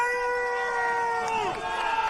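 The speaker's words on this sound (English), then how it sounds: "You have half the crowd chanting Gore. The other half chanting Husk." An arena crowd at a fight billed as Beast Man versus Rhino chants the fighters' names, Gore and Husk, in sustained, tonal, overlapping voices that sweep downward in pitch partway through.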